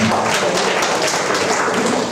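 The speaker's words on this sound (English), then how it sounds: "Give a clap." An audience applauds during a college faculty development programme session after answers are given in class. Steady, dense hand clapping keeps up at an even level throughout, with no one speaking over it.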